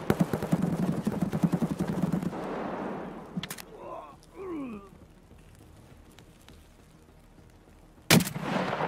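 Suppressed gunfire cracks somewhere ahead in the tactical shooter Escape from Tarkov: a few sharp, muffled reports with short gaps in between, the last one standing out clearly against quieter background ambience.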